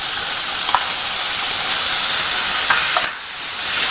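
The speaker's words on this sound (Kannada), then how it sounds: "ಇದು ಈಗ ಬೆಂದಿದೆ, ಅದು ಅದರೊಳಗಡೆಗೆ ನಾನು ಟೊಮ್ಯಾಟೊ ಹಾಕ್ಕೊತ ಇದ್ದೀನಿ" Finely chopped tomatoes frying with chicken for a pepper dry roast, a loud, steady hissing sizzle with a few brief stirring clicks near the end.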